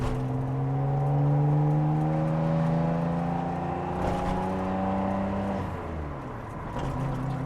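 A Nissan GTR R33 engine revs close by, a smooth rising drone that holds high, then drops back toward idle, with no voices over it.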